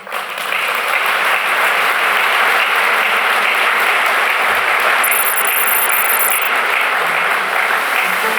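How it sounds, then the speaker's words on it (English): Audience applause at the official opening of Nexus2050 in Luxembourg, a dense, even wash of clapping that rises quickly and holds steady and loud to the end. "Please give a warm applause to Sophia."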